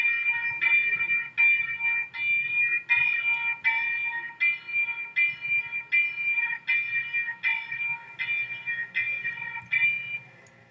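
A railroad crossing bell in a ROBLOX train simulator of Florida's FEC and Brightline lines rings steadily, its bright repeated dings pulsing at an even rhythm for about ten seconds with no talk.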